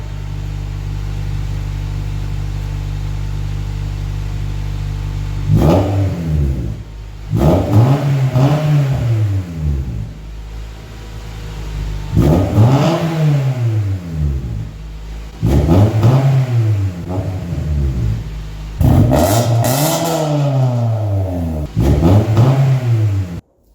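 A Honda car fitted with a modified cannon exhaust idles with a steady low drone, then revs up sharply several times, each rise and fall of the engine note loud and close, with no talking.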